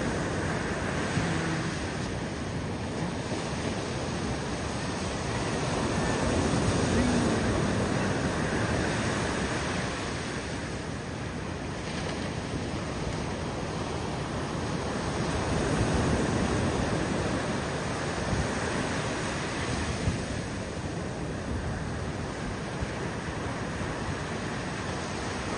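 Sea waves washing onto a shore at night, a steady broadband wash with slow swells rising and falling, close and continuous with no talk.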